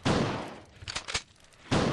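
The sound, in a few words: shotgun shots in Resident Evil drama album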